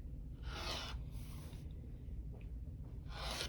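A rotary cutter slices through a fabric strip for a quilt border in two or three quiet hissing strokes of about half a second each, set against a low steady room hum.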